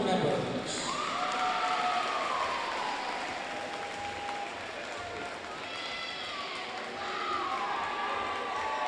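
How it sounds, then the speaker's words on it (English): Applause fills a high school gym for school board members before a Golden Bears basketball game, a dense, steady wash of clapping and crowd noise lasting throughout, with an announcer's voice heard over it. "Please give a round of applause for our school board members."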